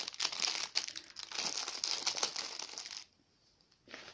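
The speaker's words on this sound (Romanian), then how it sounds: "am primit vestita punguță de la ei, punguța de hârtie" Paper gift bag crinkling and rustling steadily as it is handled up close for about three seconds, then a short pause and one more brief crinkle.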